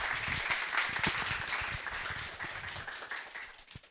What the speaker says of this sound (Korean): 이상욱 교수님을 박수로 맞아주십시오